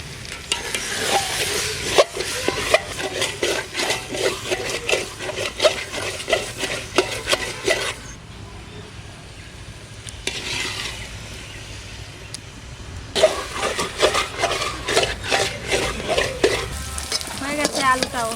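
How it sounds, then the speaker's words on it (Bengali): Fish, potato and cauliflower fry together in a pan at home, a steady close sizzle with frequent stirring scrapes; the frying quiets for a few seconds mid-clip, then the lively crackle returns. "সব কিছু ভাজা হয়ে গেছে, মাছ ভাজা, আলু ভাজা, কপি ভাজা।"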